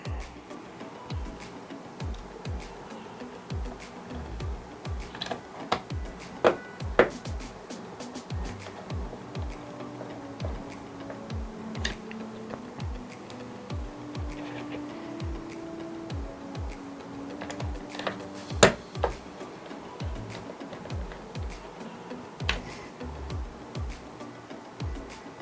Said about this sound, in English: I run them backwards until I feel and hear a click